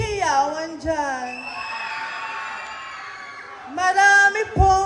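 An audience at a pageant-style event cheers and shouts with high, drawn-out whoops and screams from many voices, rising loudly again near the end.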